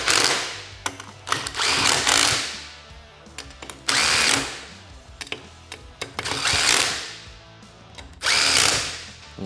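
Power tool, likely an impact driver or drill, tightening clutch bolts in an X pattern while fitting a SuperATV clutch kit on a Polaris RZR Trail S 1000, running in four or five loud, close bursts of a second or two each, with clanks and clicks in the gaps.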